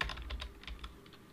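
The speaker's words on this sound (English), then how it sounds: "you hold down control and you push enter" Computer keyboard keys pressed on a desk, a handful of soft, close clicks in a brief irregular burst, no voices.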